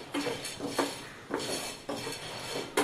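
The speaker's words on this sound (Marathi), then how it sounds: "आता ह्या डाळ्या यांना जास्त भाजण्याची गरज नाही, फक्त थोड्याशा गरम करून घ्यायच्या आहेत" Split chickpeas (dalia) being roasted in a pan, dry granular rustling and scraping as they are stirred, with periodic louder metallic scrapes of a utensil against the pan, close and steady, no voices.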